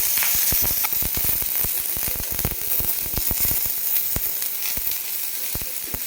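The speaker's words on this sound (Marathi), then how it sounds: "कांदा छान आपला लालसर कलरवर आपल्याला भाजून घ्यायचा आहे" Onion with a pinch of salt sizzling and crackling on a hot tawa, with a steady frying hiss and frequent sharp pops and spatters close by.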